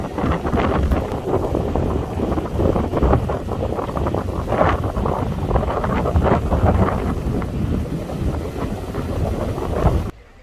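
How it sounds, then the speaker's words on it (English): Strong wind at Loch Ness buffets the microphone in a constant loud roar with gusty surges, and lake water and waves wash faintly underneath. "Quite blowy today, quite windy, as you can probably hear and see,"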